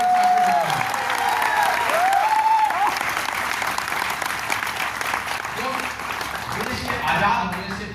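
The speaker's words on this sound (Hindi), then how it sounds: "थोड़ी और ताली बजाइए" An audience at an Amway speech event in Mumbai breaks into loud, sustained applause mixed with some cheering voices, the dense clapping holding steady for the full eight seconds.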